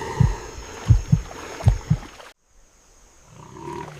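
A heartbeat sound effect in an African wildlife documentary about a lion and a roan antelope, with five loud, deep thumps in paired beats, then an abrupt cut to near silence and a faint low rumble.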